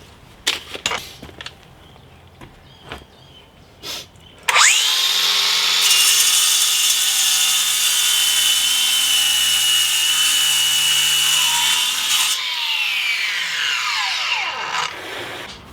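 A Bosch GWS 18V-180 cordless angle grinder bites into brick to cut a slot, its loud, steady high whine with gritty cutting noise running for about eight seconds after some light clatter, then spinning down.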